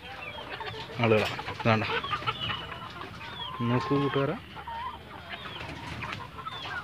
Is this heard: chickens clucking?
yes